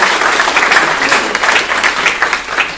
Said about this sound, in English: Let's give Andre a round of applause.